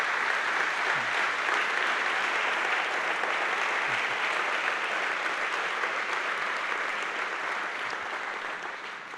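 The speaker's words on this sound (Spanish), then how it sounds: "¿Cuánto están dispuestos a dar un fuerte aplauso a Jesús por eso?" Sustained applause from a church congregation at an annual retreat service, a dense steady clapping filling the room for about nine seconds and fading slightly at the end.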